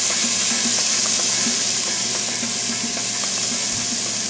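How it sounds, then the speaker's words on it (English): Onions sizzling in a pot for white chicken chili: a steady, bright frying hiss with faint crackles and pops, loud and close, with no talking. "Got a good sizzle going on that."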